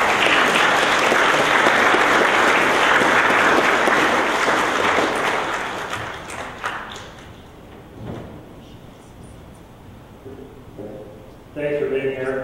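Dense applause from a lecture audience welcoming a speaker on urban sprawl, loud and sustained for about six seconds before tapering into scattered claps and room shuffling, with a voice starting near the end.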